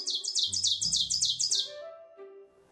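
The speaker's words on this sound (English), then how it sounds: "so it starts low, gains higher, and then comes back lower again. That's a pine warbler." A pine warbler sings a fast, rising-and-falling trill of about a dozen rapid chirped notes, clear and fairly close, ending in fading tones with no talking over it.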